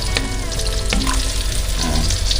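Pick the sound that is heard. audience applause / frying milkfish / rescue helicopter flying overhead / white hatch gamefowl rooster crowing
frying milkfish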